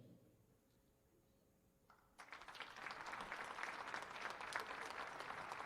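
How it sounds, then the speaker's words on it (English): Spectators at a CMU women's basketball Senior Day game against Mount Mercy burst into applause after a quiet stretch, the clapping swelling into a full, steady ovation in the gym. "one more round of applause for our 2026 CMU Women's Basketball Senior Class"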